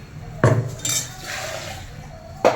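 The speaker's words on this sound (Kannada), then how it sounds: "ಮಿಕ್ಸಿ ಜಾರಲ್ಲಿ ಮಸಾಲೆ ಇರುತ್ತಲ್ಲ ಅದನ್ನೆಲ್ಲ ಚೆನ್ನಾಗಿ ತೊಳ್ಕೊಂಡು ಹಾಕ್ಕೊತಾ ಇದ್ದೀನಿ ನೋಡಿ" Spice masala rinsed out of a mixer jar and poured into a pot of egg sambar, heard as sharp metallic clinks of the jar against the vessel at the start and end, with a soft splash of liquid between them.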